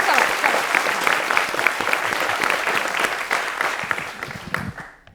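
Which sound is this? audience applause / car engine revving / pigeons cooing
audience applause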